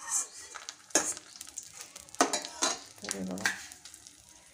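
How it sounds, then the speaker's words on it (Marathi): Edible gum (dink) frying in hot ghee, bursts of crackling sizzle with spoon clinks against the pan, close and lively, with a brief voice speaking. "थोडं असं टाकत जाऊन संपूर्ण डिंक तुम्ही तळून घ्या।"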